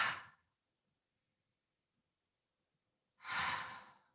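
Two exaggerated yoga exhales, loud breathy sighs close to the listener, one fading at the very start and another about three seconds later, with near silence between and no talking.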